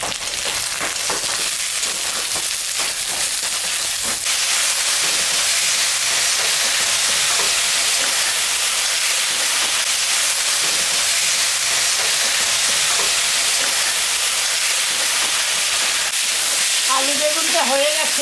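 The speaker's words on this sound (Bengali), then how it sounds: "আলু আর বেগুনটা একটু ভাজা ভাজা হয়ে গেছে" Potato and eggplant pieces fry in oil in a pan, giving a continuous loud sizzle and hiss with occasional stirring scrapes throughout.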